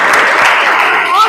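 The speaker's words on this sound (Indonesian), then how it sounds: "Tepuk tangan juga untuk kalian semua." Brief burst of clapping from a group of students in a classroom, broadband and fairly loud, lasting about a second with some voices mixed in.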